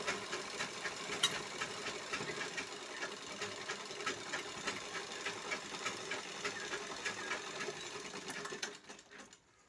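A sewing machine runs steadily while stitching a blouse seam, its fast needle chatter continuous and close, then cutting out abruptly near the end.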